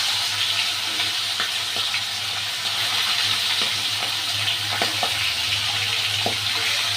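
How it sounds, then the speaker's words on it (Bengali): Fish fry in hot oil in a pan partly covered with a lid, a continuous soft sizzle with occasional crackles and pops, alone and fairly quiet. "দেখুন এরকম ভাজছে, এইটা সাবধানে ভাজতে হয়।"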